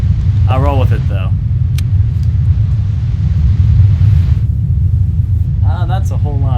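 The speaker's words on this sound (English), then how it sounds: "It sounds like I'm fucking moving boulders at the moment." Deadly Premonition sound glitch, a loud continuous low rumble like grinding boulders running throughout, with brief bursts of voice from the game near the start and end.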